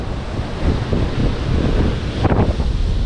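Ocean waves wash in beneath a beach house, a steady roaring surf with one louder surge near the end, mixed with gusty wind rumble across the microphone and no speech.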